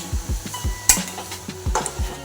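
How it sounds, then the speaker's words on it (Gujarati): Ridge gourd curry with tomato stirred in a pan, the spoon scraping and knocking in a steady rhythm of about eight strokes, close and clear, with a brief sizzle and a couple of light metallic clinks between strokes. "બધું મિક્સ કરી લેવાનું"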